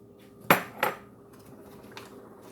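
A spoon mixing sugar into peaches in a bowl gives two sharp clinks against the dish early on, followed by softer faint scraping and a light tap, close and without talk.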